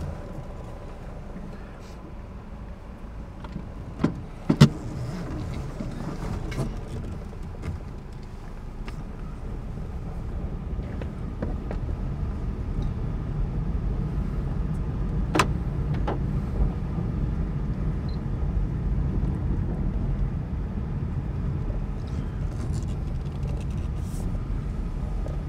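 A car pulls out of a parking lot at night and heads toward the main road, its engine and road rumble holding steady and low throughout, with a couple of brief knocks near the start.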